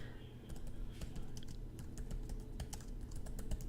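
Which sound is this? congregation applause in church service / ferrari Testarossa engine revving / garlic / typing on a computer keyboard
typing on a computer keyboard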